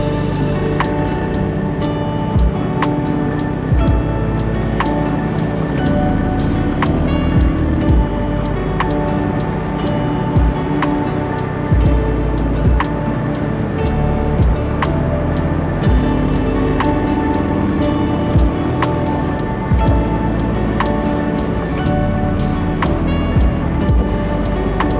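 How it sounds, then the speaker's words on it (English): A Royal Enfield Classic 350 motorcycle cruising on a motorway, a loud steady engine drone with rhythmic ticking and constant wind and road noise, unbroken for the whole stretch. "let's see how this bike tackles the motorway."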